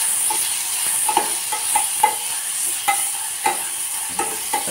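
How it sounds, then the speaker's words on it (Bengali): Food frying in a pan under a constant sizzle, stirred with a utensil that gives regular light taps and scrapes about every half second, close and fairly loud, with no voices. "তো চলো এটাকে আমরা ভালো করে ভেজে নিই।"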